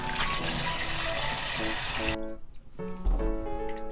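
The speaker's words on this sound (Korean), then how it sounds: "물에 살짝만 씻어줍니다." Sliced pickled cucumbers get a quick rinse under a running tap, giving a steady splashing flow for about two seconds before the water cuts off, followed by a few quieter clatters and drips.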